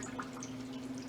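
Water is poured onto a rock wool cutting cube, a brief soft trickle and dripping splash under a steady low hum, close and fairly quiet.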